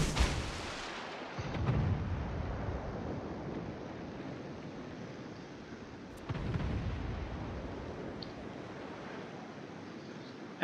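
Naval guns fire at a target in a warship video game, two heavy booming salvos a few seconds apart, each rolling off into a long low rumble under ambient sea noise.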